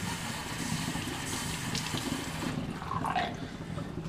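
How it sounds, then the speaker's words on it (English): Water runs steadily through an aquarium siphon hose being rinsed, a continuous rushing, gurgling flow with a brief splashier surge near the end and no voices. "I'll just rinse out the siphon, let it run through for a little bit."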